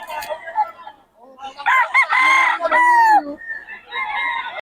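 A gamecock stag of the National Bandit line crows loudly and close, a long strained cock-a-doodle-doo rising after a few short clucks, followed by another bird's fainter call.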